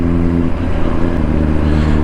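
A Suzuki GSX-R1000R motorcycle engine revving up close, loud and sustained with a deep, slightly lumpy throb that holds steady throughout.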